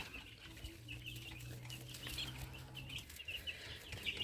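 Young chickens of a mixed domestic cross flock clucking softly nearby, scattered chirps and clucks with a brief wing flutter, faint and without speech.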